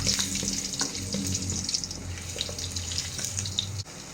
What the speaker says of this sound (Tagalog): Piprituhin lang natin ng konti para lang hindi malabsak mamaya pag naglagay ako ng sauce.